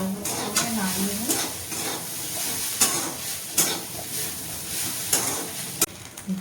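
A spatula scrapes and knocks repeatedly against a frying pan while spiced food sizzles underneath, a steady close hiss broken by irregular metallic clinks and stirring strokes.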